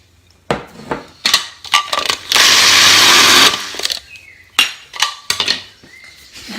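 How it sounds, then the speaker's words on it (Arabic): A home kitchen grinder processes a sweet cacao dough a second time, giving a loud, steady whirring burst of about a second in the middle. Clattering bowl and utensil knocks come before and after it. "وغادي نعاود له الطحنه الزوجه حتى نحصل على عقده."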